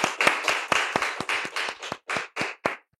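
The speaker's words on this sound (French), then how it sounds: "Applaudissements sur Bruce." A small audience at a French comedy show claps in about a dozen distinct bursts, sparse and uneven, then stops abruptly.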